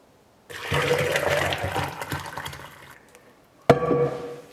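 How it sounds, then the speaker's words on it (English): Boiled fresh coconut and its cooking water are poured into a blender, a close splashing gush that starts suddenly and tapers off, followed by a short clunk and a second brief burst of pouring. "we're pouring the boiled coconut with the coconut water into the blender"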